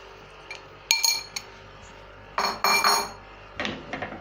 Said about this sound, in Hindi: वैसे ये चॉपस्टिक से मिक्स होते हैं बहुत जल्दी, आसानी के साथ।